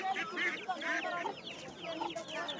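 Hens cluck at an outdoor poultry market, several fairly faint calls overlapping in a busy, irregular chatter over low background noise.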